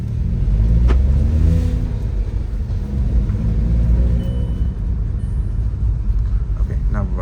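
A Volkswagen Polo Trendline 2021 with a 1-litre MPI engine revs up and settles, a loud steady rumble running through the whole stretch, with a person talking over it.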